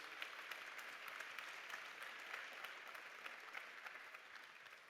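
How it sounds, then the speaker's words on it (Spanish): Audience applause for a speaker at a sports-industry conference session in Spain, a steady, dense clapping that holds evenly throughout at a modest level, with no voices over it. "Un aplauso fuerte"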